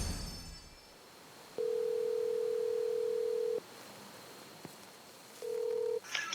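A telephone ringback tone on a call to a mother: one long steady electronic tone followed by a pause and the start of a second tone, clear over quiet background hiss.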